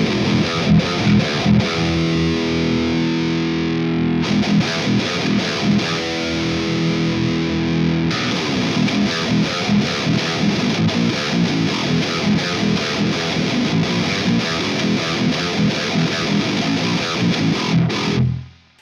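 Heavily distorted drop E electric guitar riffs played through an ML Sound Lab Amped Icon amp, captured with 57 and 121 mics, thick and continuous chugging chords that change tone partway through, then stop abruptly at the end.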